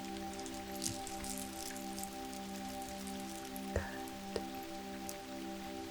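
Soft, steady rain patters continuously under a sustained, layered musical drone. Occasional faint taps and clicks stand out from the wash, and a quiet voice speaks briefly.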